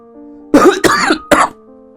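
Three short, harsh coughs burst out close and loud in quick succession, with silence before and after.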